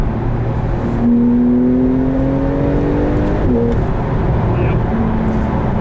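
A 2019 Porsche 911 Carrera GTS engine revs up under way from inside the cabin, its pitch climbing steadily and then dropping at a shift before rising again, loud and constant beneath people talking.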